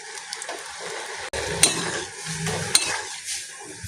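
Shankarpali dough pieces frying over a low flame in hot oil, a steady soft sizzle with occasional stirring clinks of a utensil against the pan.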